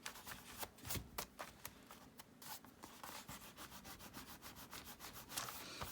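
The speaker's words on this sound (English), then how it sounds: "Just rub off the excess glue." Faint, rapid rubbing strokes of a finger over paper clear excess glue from a craft page, a soft rhythmic scratchy shuffle repeating closely and quietly with no talk.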